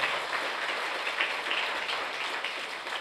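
A congregation claps at a church flag-hoisting festival Mass, a steady, dense wash of many hands that carries on evenly for the full three seconds with no voices over it.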